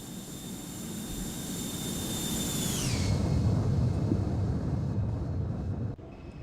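An airliner in the X-Plane 12 flight simulator climbs out after takeoff from KSJC, a steady loud jet roar with broadband rush, its high engine whine sliding lower partway through, no talk.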